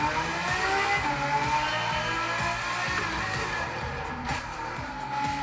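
A car on Racing Soft tyres spins its wheels in Gran Turismo 7, the engine roaring steadily at high revs through the gears with tyre scrub layered over it, loud and continuous.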